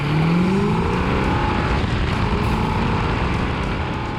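A 440 six-barrel Plymouth Cuda, about fifty years old, drives past loud and close, its engine a steady rumble with a rising pitch from a gear or speed change early on, heard alone without voices.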